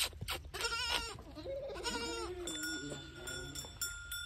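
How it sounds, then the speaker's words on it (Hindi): A small goat bleats several times in a row, with quavering cries that are close and clear, while a bell tinkles in the background near the end. "तो कितनी प्यारी छोटी बकरी है।"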